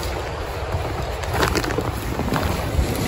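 Strong wind in heavy snow blows as a steady, loud roar with gusty swells and buffeting against the microphone, and no voices are heard.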